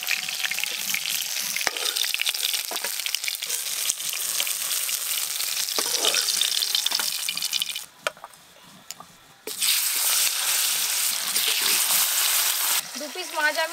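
Fish sizzling and frying in a pan, a steady close crackle throughout with a brief quieter dip midway before the loud sizzle resumes.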